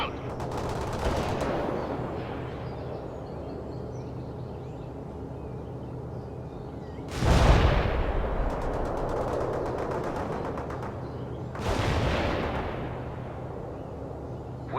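Sustained gunfire and artillery in a World in Conflict Soviet assault battle, with dense rattling fire throughout and two heavy booming blasts near the middle and end.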